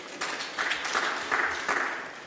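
Indoor event audience clapping for themselves at an investment seminar, a steady, moderately loud round of applause with no voices over it.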